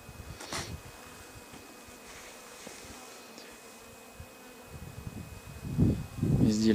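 In spring, bees fly around hives set in two rows with snow still on the ground. A soft, steady buzzing hum rises and falls through the whole stretch, with some handling noise near the end and no speech.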